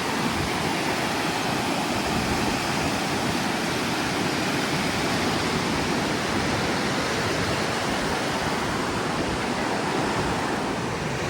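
A monsoon-swollen river runs in flood beside a temple, its water rushing in a dense, unbroken roar that stays loud and even from start to finish.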